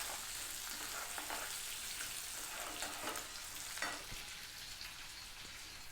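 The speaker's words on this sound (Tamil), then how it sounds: "இந்த ஸ்டேஜில் தக்காளியை போடலாம்." Tomatoes fry in a pan for red capsicum chutney, giving a soft, continuous sizzle with occasional faint stirring scrapes, quiet and steady throughout with no talking.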